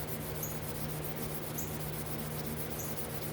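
A car fender wet-sanded by hand before painting gives a soft, steady, continuous rubbing hiss, quiet and close, with no speech.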